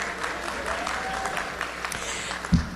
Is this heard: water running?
no